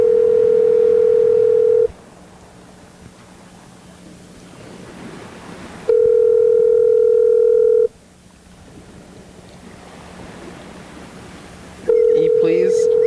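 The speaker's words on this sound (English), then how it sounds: "Google video call." A Google video call ringing tone sounds in loud steady beeps about two seconds long, repeating every four seconds or so, with quieter hissy room noise filling the gaps.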